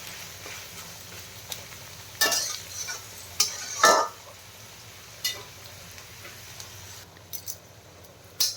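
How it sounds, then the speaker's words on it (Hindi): Onions frying in oil in a pan, a soft steady sizzle underneath occasional spatula stirs and metallic clinks, close and moderately quiet. "एबे पियाज को टिके तेल रे भल भाबे भाजबा दरकार"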